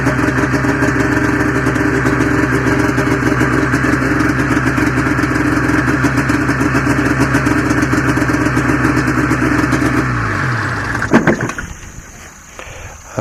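A 1994 Ski-Doo Formula STX snowmobile engine runs loud and close with a steady buzzing drone, then is shut off and clatters to a stop near the end.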